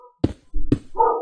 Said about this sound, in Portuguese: É o cão da minha vizinha que agora não se cala.